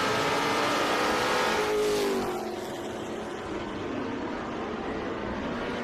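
Trans Am TA2 race cars roaring around Charlotte Speedway, a loud engine note rising as a car passes close, then a broad fainter drone of the pack.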